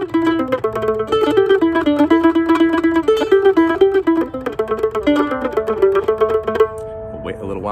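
A mandolin picks the low version of a bluegrass tune, a quick, steady run of close, bright plucked notes played alone.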